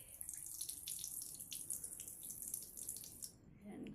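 Water poured out of a pot of broken jasmine rice after the second rinse, a steady splashing stream into a sink that stops abruptly near the end.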